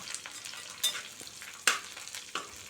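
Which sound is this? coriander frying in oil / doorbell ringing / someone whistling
coriander frying in oil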